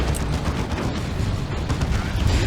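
Missile barrage strike in the Warhammer 40k strategy game Dawn of War 2 Retribution, a dense rumbling wash of explosions and crackling blasts, steady and loud throughout with no clear gaps.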